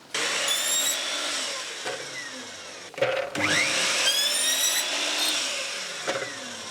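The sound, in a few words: mitre saw cutting second piece of coving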